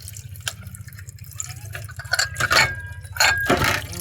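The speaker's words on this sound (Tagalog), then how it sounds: "Hugas na yung plato." Dishes being washed under running tap water at a home sink, with irregular drips, splashes and clinks close by, getting busier and louder toward the end; no talking.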